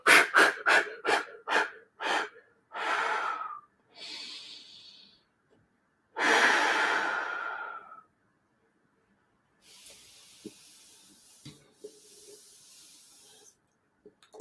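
Deep, slow breaths during a guided breathing exercise: a run of short sharp exhales, then long whooshing inhales and exhales, followed by faint quiet breathing and soft hiss, close and with no talking.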